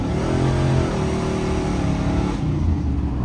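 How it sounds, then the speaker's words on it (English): A salvage V8 Camaro with a shift kit accelerates loudly and continuously from inside the cabin, the engine tone climbing then dropping as it shifts from first into second gear and pulls again. "It peels them from first to second gear without a problem."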